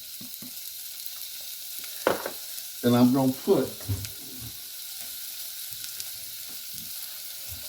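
Bacon fries gently in a pan on low heat, a soft continuous sizzle with light crackles running under a short stretch of talking.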